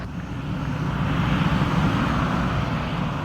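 Airliner jet engines run steadily on the ground at an airport apron in rainy weather, a broad continuous roar that swells slightly and holds at an even, fairly loud level with no talk over it.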